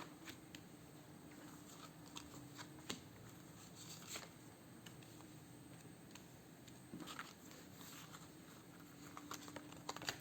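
Tarot cards shuffle during a reading, faint papery riffles and soft taps repeating irregularly at close range in a quiet room.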